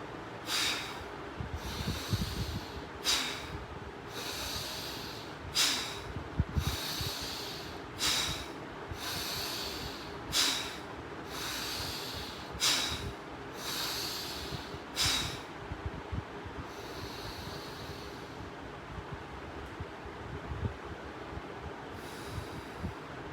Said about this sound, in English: We will breathe in forcefully.